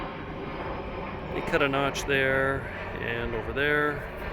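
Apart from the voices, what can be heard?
airplane flying overhead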